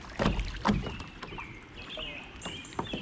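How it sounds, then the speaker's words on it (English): Small river rapids heard while kayaking, water gurgling and splashing around the boat with a few paddle knocks up close, under faint wind and soft background chatter. "Nice little rapids."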